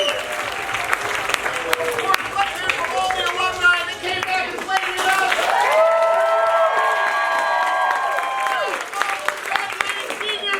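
Loud applause and cheering fill a hall after a high school seniors-versus-alumni match, with voices shouting and whooping over continuous clapping while someone talks on a microphone.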